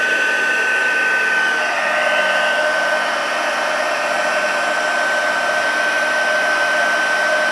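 An embossing heat gun running on the second of its two settings, a steady loud whooshing fan roar with a high whine, continuous and close throughout, no talk.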